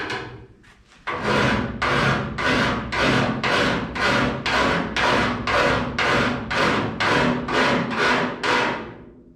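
A hand file scraping down a high spot on a welded 1951 Chevrolet Fleetline Deluxe door: loud, steady back-and-forth rasping strokes, about fifteen evenly spaced passes, close and continuous with no talk.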